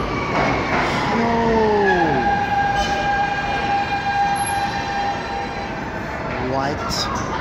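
A Siemens train passes close by with a loud, steady rumble and sustained tonal whines that bend in pitch, while people talk nearby.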